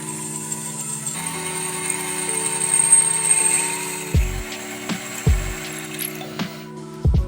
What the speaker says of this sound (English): So now I'm going to drill the 3 holes for the pins.